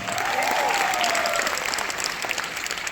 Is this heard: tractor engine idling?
no